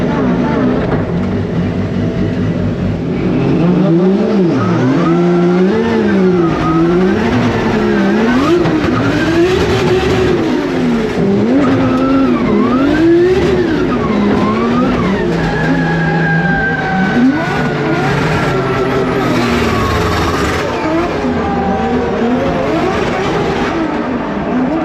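Drift car at a D1NZ drifting event revving hard, its engine pitch climbing and falling in rapid sweeps, with a longer sustained whine and some tire squeal, loud and continuous.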